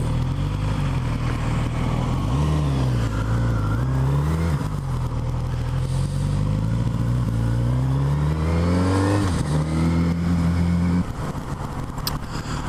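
A Kawasaki Z900RS motorcycle engine pulls hard in a short first gear on a road test ride, revving up and down through several loud gear changes. It stays close and continuous throughout, with no talk.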